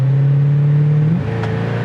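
A 1965 Ford Mustang engine hums steadily while driving, a low smooth drone that shifts pitch slightly as it changes gear, continuous and close.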